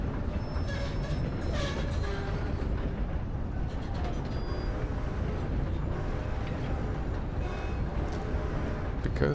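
A train running in the Western video game Red Dead Online, a dense continuous rumble and rattle of wheels and cars with faint higher squeals, steady and loud for the whole stretch, no talking.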